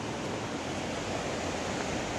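Water rushes steadily at a cool spot on a Nepali outing, a broad, continuous hiss of flowing water with no breaks and nothing else standing out.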